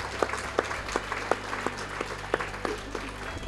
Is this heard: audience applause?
yes